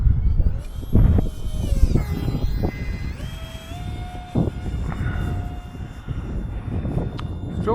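A tiny FX9631 RC airplane, about 110 grams, flies on a windy afternoon, its small motor whining in rising and falling tones over gusty, rumbling wind noise.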